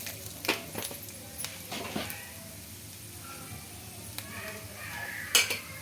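Garlic cloves with their skins and a little dal being tossed in a pan of hot oil, giving scattered clinks and a sizzle of spoon against metal, with a sharper clatter near the end.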